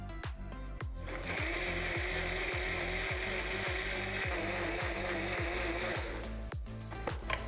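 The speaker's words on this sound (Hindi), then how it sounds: "इसे अब हम ब्लेंड कर लेंगे।" An electric blender whirs steadily for several seconds as it blends a jaljeera drink of masala, lemon and cold water, with a sustained motor whine and a brief start and stop at either end.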